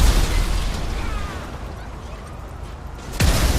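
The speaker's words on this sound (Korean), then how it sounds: "이 폭발이 끝날 때까지 난 기다리고 있겠어" An explosion in the video game GTA 5 roars as a loud, broad rumbling blast that decays over a few seconds before another burst hits near the end, with no talk.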